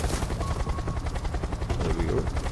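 A helicopter in the video game Unturned, its rotor chopping steadily and fairly loud throughout, with faint gunfire mixed in.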